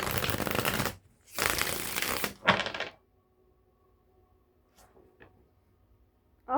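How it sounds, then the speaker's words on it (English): A deck of tarot cards is riffled and bridged during a reading, three loud, close shuffling bursts in the first few seconds, followed by quiet with a few light card taps and clicks. "I almost put the candle out with that shuffle."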